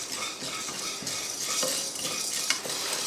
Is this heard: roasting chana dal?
yes